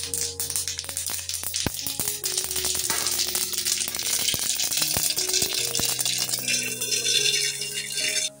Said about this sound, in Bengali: তার মধ্যে আমি গোটা সরিষা দিয়ে দিচ্ছি।